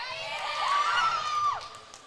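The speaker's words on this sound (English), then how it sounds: "Crowd getting into it." Spectators at a high school volleyball match cheer and shout with high-pitched voices in a loud, sustained burst that fades slightly at the end.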